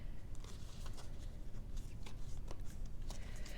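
A deck of tarot cards being shuffled by hand, a steady run of soft papery riffles and slaps that goes on for the whole stretch at close range, with no one speaking.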